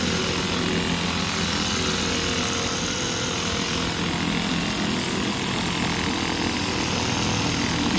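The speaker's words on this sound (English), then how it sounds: "And then we use this hand drill." A hand drill fitted with a soft upholstery brush scrubs a stained fabric chair, giving a loud, continuous motor whine with brushing underneath, close and steady throughout.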